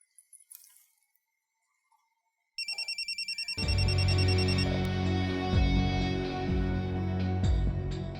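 A mobile phone in a Pakistani TV drama, beginning with a short burst of rapid electronic ringing beeps and then switching to a loud, steady musical ringtone that keeps playing unanswered, alone and close.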